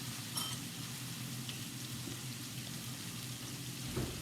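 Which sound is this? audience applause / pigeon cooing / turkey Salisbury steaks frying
turkey Salisbury steaks frying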